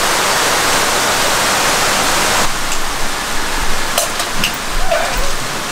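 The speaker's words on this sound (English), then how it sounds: "Just woke up because of all the rain. I think monsoon season" Heavy monsoon rain pours down in Nepal, a loud, unbroken hiss of downpour that softens slightly partway through, with occasional drips and splashes nearby.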